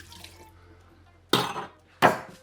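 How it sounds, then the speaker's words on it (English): A martini cocktail is dumped down a drain: after a faint quiet stretch, two sharp splashing gushes of liquid hit a sink basin, the second a bit louder. "This is going straight down the drain."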